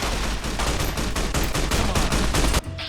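Rapid automatic gunfire in the video game Fallout: New Vegas: a loud, close, continuous burst of evenly spaced shots lasting nearly three seconds, then cutting off abruptly.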